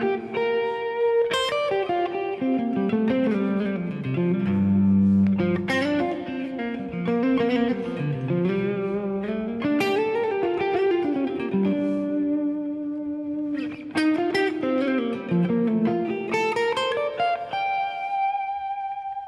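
Electric guitar through a Line 6 HX Stomp or Helix reverb setting plays slow chords and single notes drenched in reverb and delay, each strum ringing out and echoing into long washy tails.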